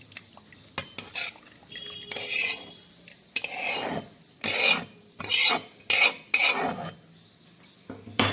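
Boiled spinach ground with water into a paste in a mixer grinder jar, heard as short, loud raspy whirring bursts in a pulsing stop-start rhythm, close by with no talking.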